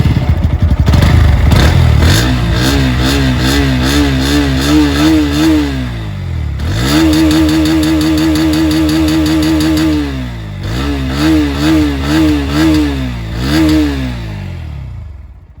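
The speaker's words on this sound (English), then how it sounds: "Let's listen to the exhaust sound of this bike now." Bajaj Pulsar NS160 motorcycle exhaust heard up close, idling with a clattery burble and then revved several times in rising and falling sweeps, including one long rev and a series of short blips.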